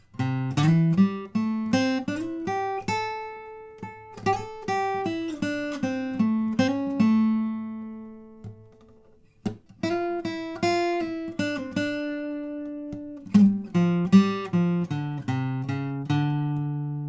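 A guitar plays the solo of a blues standard, clean plucked single notes and slides in rising and falling phrases, with one short pause partway through.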